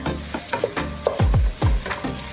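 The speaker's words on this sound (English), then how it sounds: "So I throw in my chicken. And I'm gonna mix it up to give it this wonderful flavor." Chicken for Spanish rice sizzles in a hot pan while being mixed, with a hissing fry broken by several close, thumping stirring and scraping strokes.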